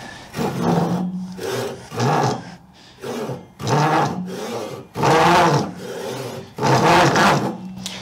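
A Ryoba Japanese pull saw cuts through wood in a series of about eight rhythmic rasping strokes, each a loud, close, gritty pull with short gaps between.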